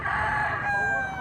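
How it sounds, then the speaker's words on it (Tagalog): A full stag gamecock crows once, a single drawn-out, loud, near cock-a-doodle-doo that fills the whole moment. "Manok ni tatay,"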